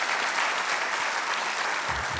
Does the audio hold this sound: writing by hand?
no